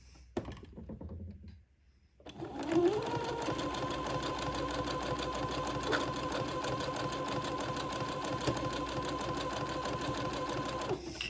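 A sewing machine zigzag-stitches along a long fancy lace panel being added to lengthen a dress, running in a steady rapid mechanical whir after a short quiet start, close and continuous.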